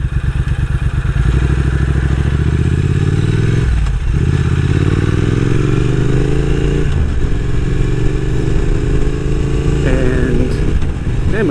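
A motorcycle ridden near the Tarpon Springs sponge docks, its engine droning loudly and close with rising and falling revs as gears shift, under steady wind noise.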